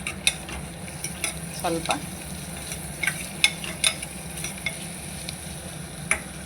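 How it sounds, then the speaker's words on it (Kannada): Ginger paste fries with onions in a pan, giving a steady sizzle broken by repeated scraping and clacking strokes as it is stirred. A brief spoken word is heard. "ಇವಾಗ ಶುಂಠಿ ಪೇಸ್ಟ್ ಮಾಡಿಕೊಂಡು ಹಾಕ್ತಾಯಿದ್ದೀವಿ"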